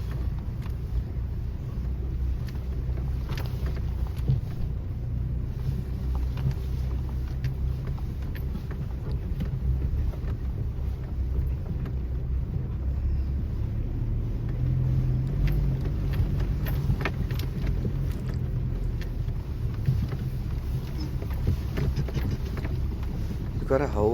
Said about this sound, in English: it feels like you're sitting on a bar of butter, slipping and sliding as you're going through this thick, thick sand